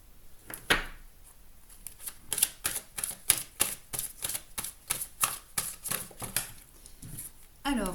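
Tarot cards are cut and shuffled, a run of close, crisp riffling clicks and flicks in quick irregular bursts with brief pauses between.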